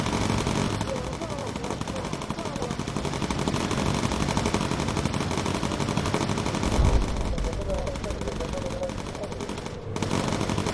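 Continuous bursts of machine gun fire ring out from a bomber's gunners during an air fight in the video game Bomber Crew, dense and steady for most of the stretch, with a brief pause near the end.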